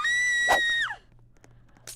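A child's high, piercing scream in the Roblox scary elevator horror game, loud and sustained for under a second before breaking off, followed by faint background noise and a brief trailing squeal.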